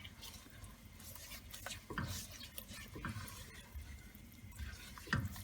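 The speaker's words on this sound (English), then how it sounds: "So here I'm stirring it all around." Homemade playdough mixture with Kool-Aid stirred in a pot, a quiet wet swishing and scraping with occasional soft knocks of the spoon, faint and continuous throughout.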